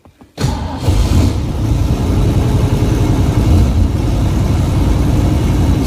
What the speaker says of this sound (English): I'm going to start this video out by doing a cold engine start so you can see what the oil pressure is.